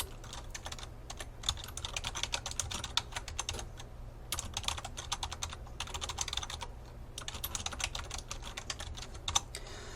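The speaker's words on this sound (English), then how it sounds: "you're just going to type it in" Rapid clicking of keys on a computer keyboard, nearby and fairly quiet, in irregular bursts with short pauses throughout, no voices.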